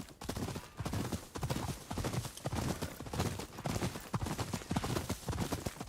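Horse hooves clip-clopping at a steady walking rhythm in the video game Ghost of Yotei, close and fairly quiet, each footfall distinct and evenly spaced throughout.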